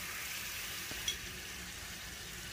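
Spicy sauce with fried garlic sizzling in a pan, a faint steady hiss of frying with one small clink of a utensil partway through.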